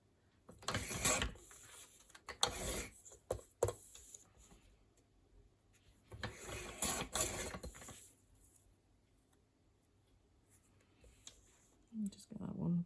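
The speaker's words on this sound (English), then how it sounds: "I'm just going to use my other cutter for this." A paper trimmer slices scrapbook paper at a crafting desk, giving two short scraping bursts of cutting, each with a soft slide and clunk. Quieter handling rustles lie between them, and a voice speaks briefly near the end.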